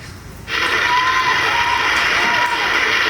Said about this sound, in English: that's the kind of applause you're going to get.